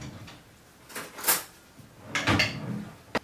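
Kitchen drawer pulled open to fetch cutlery, with two distinct scraping slides about a second apart, a louder rattle near the end and a sharp final click.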